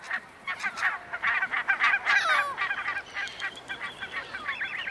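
Barnacle geese on a small river island breeding ground calling to their chicks, a busy chorus of repeated honks and yelping cries, fairly close and continuous throughout.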